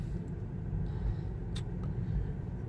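Low, steady road rumble inside a Tesla Model 3 rolling down a small incline, a quiet continuous drone with faint tire noise and a brief light tick partway through.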